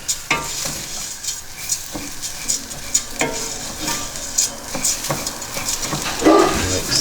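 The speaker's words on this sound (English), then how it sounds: "we're just need to mix the rice around, coat it with the oil that's in the pan, let it warm up a bit" Basmati rice stirred in a pan with melting butter and oil, giving a steady low sizzle with repeated scraping strokes and light clinks throughout, close and fairly loud, with no talking.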